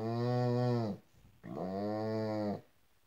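A man imitates a dog with his voice, producing two long, whining howl-like tones separated by a brief breath, close and clear with no other sounds.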